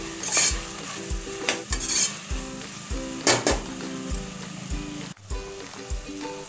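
Curry leaves fry in a pan for biryani, with a spoon clanking and scraping against the pan in a regular rhythm over a soft sizzle and a steady tonal background.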